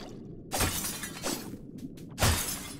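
Glass jars shattering in the video game Another Crab's Treasure, three sharp bright breaks spaced about a second apart, loud and close with no talk over them.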